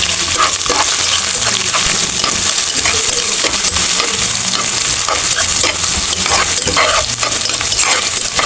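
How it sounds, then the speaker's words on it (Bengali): Garlic and green chilies frying in hot oil in a pan for khichuri, a loud continuous sizzle with repeated scraping and stirring strokes throughout, no voices. "মরিচ ভালো করে একটু ভেজে নেব"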